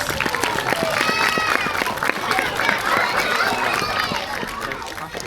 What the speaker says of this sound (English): I think Xana deserves another big round of applause.